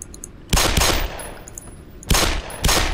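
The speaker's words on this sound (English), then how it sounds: "I'm just going to crack out the pistol." Four loud pistol shots from a Black Mesa video game, fired in two quick pairs with short, sharp reports close up and no voices.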